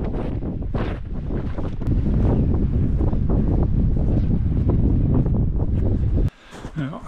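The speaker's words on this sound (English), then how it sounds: "Now, it's a cold wind." Cold mountain wind buffeting a microphone outdoors, a loud, steady roar that grows stronger and then drops off sharply near the end, with a few faint voices beneath it.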